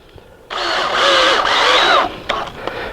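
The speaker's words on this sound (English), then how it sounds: "So we'll just start screwing it into place now." A power drill drives a screw through plastic into a hoop house end wall, giving one loud whirring burst of about a second and a half with a brief dip midway, followed by faint clicks.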